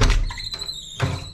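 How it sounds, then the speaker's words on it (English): An apartment door opened, with a short squeal of hinges, a soft click and a second brief scrape about a second later, close by. "so let me open this door"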